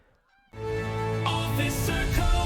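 A bean goose honks loudly in the hunting game theHunter: Call of the Wild, with repeated harsh honks layered over one another after a short quiet start.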